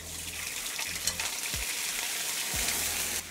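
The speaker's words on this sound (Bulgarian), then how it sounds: "Сотираме си добре морския микс" Squid, octopus, crab meat, clams and shrimp sauté in hot olive oil in a hotel kitchen, giving a steady, fairly loud sizzle that runs the whole time with no talking.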